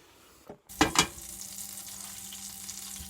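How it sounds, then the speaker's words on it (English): Lurpak butter melts in a frying pan over medium heat, sizzling and popping close by, with a couple of sharp spatters early on, then a steady, fairly quiet fry with no talking. "In the pan below I have Lurpak butter just melting away"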